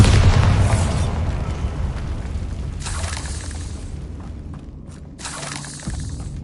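Confringo and Bombarda spell explosions in the video game Hogwarts Legacy: a loud booming blast up front with shattering crackle, followed by two more sharp bursts of noisy debris a few seconds apart, close and forceful, with no speech.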